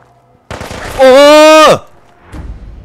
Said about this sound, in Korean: 총소리 맞잖아.